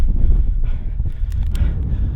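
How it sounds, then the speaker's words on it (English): Gusty wind buffets a microphone beside a river on a cold day, a loud, continuous low rumble that surges and eases over two seconds, with no speech. "getting windy"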